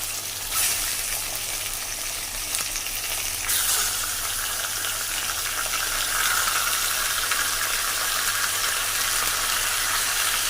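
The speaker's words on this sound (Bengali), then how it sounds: "মাংসটা দিয়ে আমি সুন্দর করে এটা মাংসটা ভেজে নেবো, আর পেঁয়াজটা ভেজে নেবো একসঙ্গে" Meat and onion fry together in a pan, giving a steady medium-loud sizzle with soft crackles and occasional bursts of hiss, continuous throughout with no talking.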